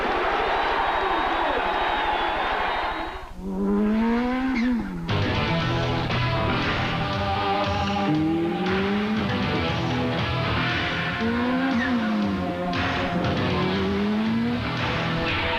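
Race cars in a Toyota advert roar past, engine pitch sweeping up and down through gear changes, with bursts of tire squeal; loud and continuous throughout.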